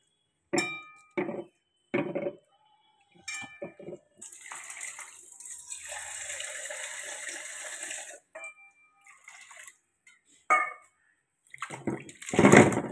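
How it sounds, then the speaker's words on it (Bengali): Dried fish lifted from a hot-water soak and washed by hand in water, with a stretch of splashing and running water broken by brief clinks and handling knocks, fairly close and with no talk. "এবার আমি একটু ভালো করে গরম জল থেকে তুলে নিয়ে একটু কিন্তু ভালো করে ধুতে হবে।"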